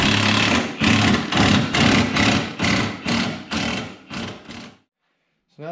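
Impact wrench tightening bolts on a winch bumper: about ten loud, close rattling bursts in a steady rhythm, each roughly half a second, then a pause and a short tail of sound.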